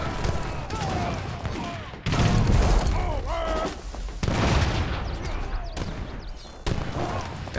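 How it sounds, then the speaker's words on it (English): Cannon fire booms repeatedly in Age of Empires III Definitive Edition, heavy thuds and blasts piling up amid battle noise, loud and dense. "Gotta love that cannon spam."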